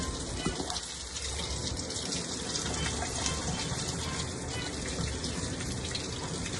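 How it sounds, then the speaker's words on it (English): Apples are washed and scrubbed under a running kitchen tap, making a loud, steady rush of water that continues without a break and with no talk. "The first step we're gonna do with our apples is we're gonna wash them. Make sure you scrub nice"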